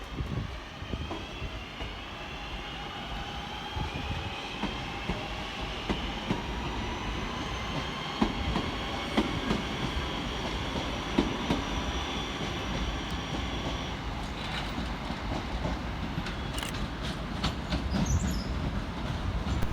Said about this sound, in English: Departing over on the far side 8 minutes late is 323219, with the 1157 Northern service from Manchester Airport through to Liverpool Lime Street.